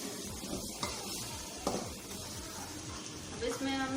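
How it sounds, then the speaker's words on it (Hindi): Green chilies go into a sizzling pan for masala baingan, a steady bright frying hiss with a few sharp clinks and scrapes of utensils against the pan. "अब इसमें हम हरी मिर्चें डालेंगे"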